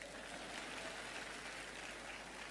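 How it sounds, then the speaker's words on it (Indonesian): Steady, continuous applause from a congregation during a religious talk, faint and distant, a dense even wash of clapping with no distinct individual claps and no voices on top. "Tepuk tangan untuk koan."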